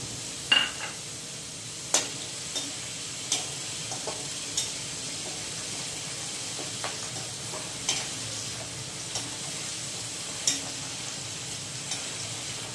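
Green chillies frying with cumin, mustard seeds and turmeric in hot oil, giving a steady soft sizzle broken by small sharp pops and crackles at irregular intervals.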